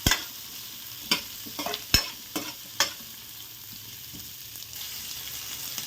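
Onion and cumin frying in oil in a pan while a sambar is being made, a steady sizzle broken by several sharp scraping stirs of a spoon, close and fairly quiet, with no voices.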